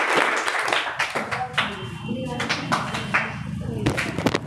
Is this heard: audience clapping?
yes